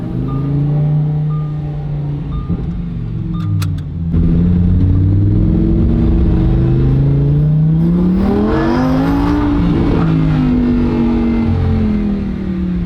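A Lamborghini Huracan EVO exhaust revs up loudly from a steady idle, its pitch swelling through repeated throttle blips into a rich, rising roar before settling back, heard up close without talk.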